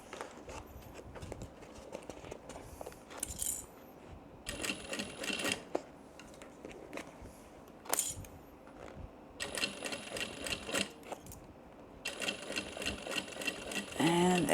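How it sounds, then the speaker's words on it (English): Domestic sewing machine stitching a tote bag with a recessed zipper, run in short bursts of rapid mechanical clatter with brief pauses between, close and fairly loud. "just go a few stitches at a time"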